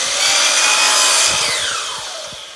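An angle grinder shaves the cope on a mitered wooden casing trim. It gives a steady high whine with gritty rasping, and the pitch slides downward as the tool winds off.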